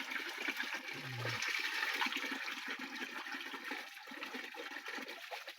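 Spring water pours steadily from a bamboo spout set up for drinking, a continuous rushing splash that holds an even level from start to finish.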